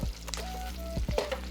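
Italian sausage sizzles in a hot pan for soup while a utensil breaks it up, a soft steady frying hiss with a few scraping knocks under a low hum.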